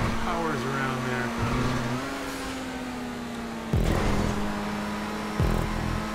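Car engine in GTA 5 Online during a race, a steady drone with rising revs and gear-shift drops, fairly loud and continuous throughout.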